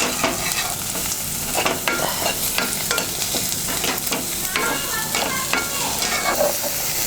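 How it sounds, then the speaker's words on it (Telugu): Sliced onions fry loudly in a pan for a drumstick curry, a dense close sizzle with frequent scraping and clattering as a spoon stirs them, no talking. "వేగిపోయినాయి కదా ఉల్లిపాయలు."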